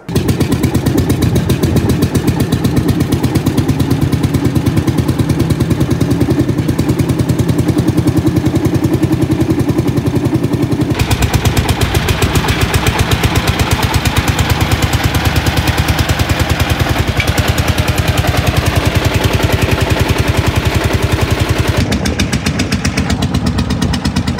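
Loud, continuous engine roar of an Ursus C45 vintage tractor pulling under load in a drawbar pull test, with a rapid thumping beat, labouring steadily with a brief change in tone partway through.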